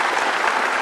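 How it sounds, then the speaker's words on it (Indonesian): Audience applause for an anti-corruption commission (KPK) during a televised Indonesian talk show panel, a steady dense patter of clapping filling the short moment with no voices. "Kasih tepuk tangan dong buat KPK"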